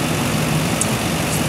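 The 5.3 liter Vortec V8 of a 2017 GMC Sierra 1500 SLE pickup idles steadily, a loud, even, low rumble close by with no talk over it.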